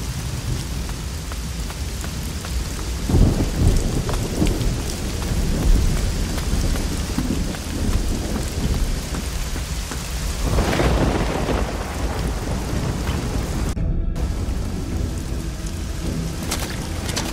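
Heavy rain pours steadily during a thunderstorm in the Risen 2: Dark Waters game, with rolling thunder swelling twice and a sharp break in the noise near the end; no voices.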